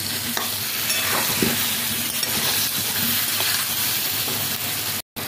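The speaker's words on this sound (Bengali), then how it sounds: "একটু ভালো করে পেঁয়াজের সাথে মশলার সাথে আলু দিয়ে কষিয়ে নেব।" Potatoes and onions sautéing with spices in a pan while a spicy whole-spice chicken curry is prepared, a continuous close sizzle with soft stirring, briefly cutting out near the end.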